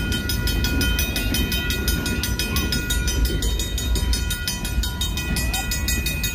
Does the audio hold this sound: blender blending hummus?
no